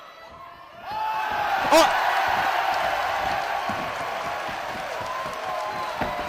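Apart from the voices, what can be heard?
wrestling crowd cheering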